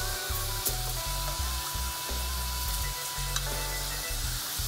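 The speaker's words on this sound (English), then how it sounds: "you can hear the sizzle" Food fries in a pan with a steady, bright sizzle, while a utensil stirs it in short, repeated scrapes and knocks close to the microphone.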